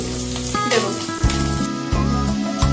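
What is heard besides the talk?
chopped ginger, chilli and garlic frying in oil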